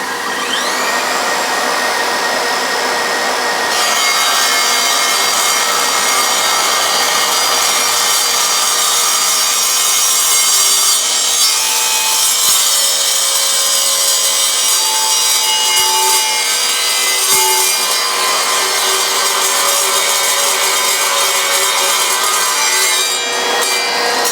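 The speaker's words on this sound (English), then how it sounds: "So next I'm going to cut 50mm mild steel box section, and it's got a 3mm thickness." An Evolution R185SMS-Li 18V cordless sliding mitre saw, clamped to work as a chop saw, cuts 50mm mild steel box section with 3mm walls: a loud, sustained metallic grinding whine that runs without letup through the cut.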